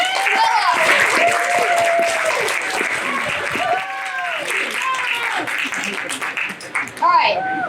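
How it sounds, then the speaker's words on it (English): Audience applause at a live magic show in a town hall theater, dense sustained clapping from a crowd for about eight seconds, with children's voices and cheers mixed in and a brief dip before a final swell. "let's give a big round of applause for Dave and Camilla"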